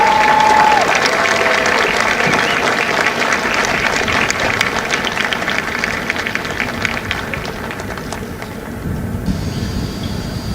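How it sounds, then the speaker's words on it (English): Loud, sustained applause and cheering from a crowd at a Marine Corps Recruit Depot San Diego recruit graduation ceremony for Hotel Company, broad and steady throughout and easing slightly near the end. "please join me in a round of applause for the company staff of Company H."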